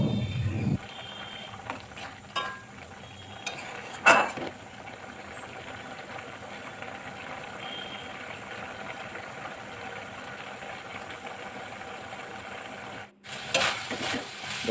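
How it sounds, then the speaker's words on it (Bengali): Washed poppy seeds in a little water boiling hard in a pan on high flame, with a steady low bubbling sizzle and occasional stirring scrapes and clinks, close by, ending in a louder clatter. "এবার হাই ফ্লেমে ভালো করে ফুটিয়ে এই জলটাকে শুকিয়ে নেব"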